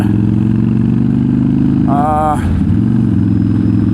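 A Dyna motorcycle engine rumbles steadily and up close while riding, a continuous low drone with a brief higher tonal sweep partway through.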